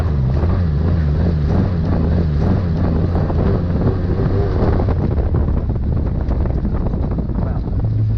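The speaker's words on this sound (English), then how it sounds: "Alright, let's see what happens when she starts to hit that high RPM band." Engine-swapped Mitsubishi Mirage driven off road, its engine droning and climbing toward high revs under heavy wind buffeting on the microphone, loud and continuous.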